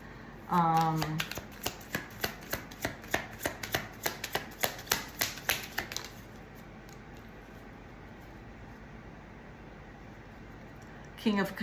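Hands shuffling a large deck of 180 tarot cards, a run of crisp, evenly spaced riffling snaps up close, with a brief voice at the start and quiet room noise afterward.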